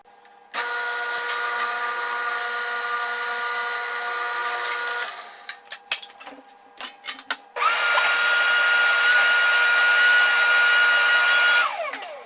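A drill press bores an 8.5-inch-deep hole into wood with a long bit, a loud steady whine running for several seconds, pausing amid clattering, then resuming strongly before winding down.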